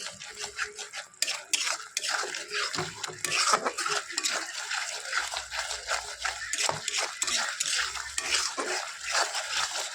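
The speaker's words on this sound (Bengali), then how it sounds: "টক দইটা দেওয়ার পরে একটু ভালো করে নাড়তে হবে, নাহলে দইটা কেটে যাওয়ার ভয় আছে" A spoon scrapes and clinks against a pan while stirring spice masala mixed with sour yogurt for a Bengali doi katla fish dish, with steady rhythmic scraping strokes up close.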